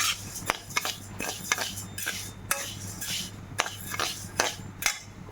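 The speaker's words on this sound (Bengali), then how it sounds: "এখানে এখন ডালটাকে ভেজে নিচ্ছি" Moong dal is dry-fried in a pan while a spatula scrapes and clacks against the metal in a quick, uneven rhythm of sharp taps over a low steady hum.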